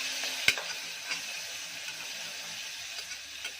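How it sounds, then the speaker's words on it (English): Curry leaves sauté in oil with cooked onion for a carrot drumstick curry, giving a soft steady sizzle with a few light spoon taps against the pan, fairly quiet and without talking. "so in this adding curry leaves, like saute and mix it well."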